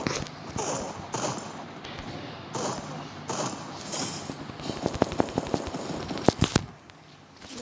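Gunfire in a Clash Squad shooter video game comes as a burst of sharp, rapid cracks in the second half, with people talking throughout.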